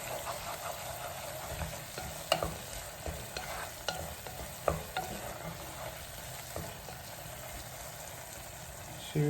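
A spoon stirs a mushroom, asparagus and courgette risotto in a pan, with soft scraping strokes and occasional clicks over a gentle, continuous simmering sizzle, close and fairly quiet with no talking.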